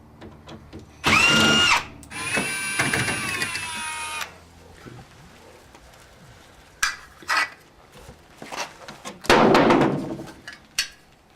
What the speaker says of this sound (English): having an electric drill will be very helpful for taking these out